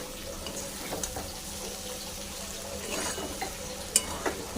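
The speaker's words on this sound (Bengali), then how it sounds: "একটু গরম জল দেব।" Hot water poured into a pan of ash gourd curry with spiced masala, giving a soft steady splash and sizzle with faint stirring clinks, close by and with no talk.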